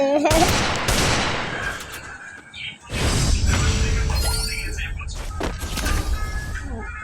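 Rapid bursts of gunfire crackle through a shooting video game round ending in a string of headshots, the shots loud and dense with a brief lull midway, while a voice talks over the action.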